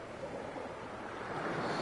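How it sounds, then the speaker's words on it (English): Ocean waves in The Innsmouth Case game roll in a steady, monotonous murmur of surf with a breathy, wind-like hiss, unbroken and fairly soft. "Apart from the monotonous murmur of the waves."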